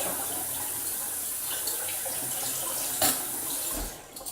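Tap water runs steadily over metal spoons in a kitchen sink, a continuous close splash with a brief louder clink or surge near the end before the flow eases off.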